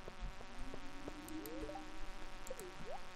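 Droning bee buzz from the video game Stardew Valley, with rising and falling pitch sweeps over a steady background hum, continuous throughout, no voices.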